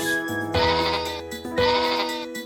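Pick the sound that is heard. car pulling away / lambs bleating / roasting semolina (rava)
lambs bleating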